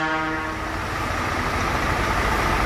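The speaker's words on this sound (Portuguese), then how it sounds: "Buzina marítima com solenoide de 1/2 polegada." A loud, sustained blast of a deep marine air horn with a 1/2-inch solenoid on a Scania truck, steady and close, lasting the whole moment.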